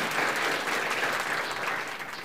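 A church congregation applauds during a sermon, a short burst of dense, lively clapping that holds steady and then begins to fade after about two seconds.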